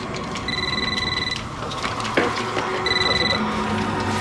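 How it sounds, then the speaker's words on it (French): A telephone rings in a home with two electronic ring bursts separated by a pause, fairly clear over a busy, noisy room background. "Théo, ça sonne. Le répondeur va prendre un message."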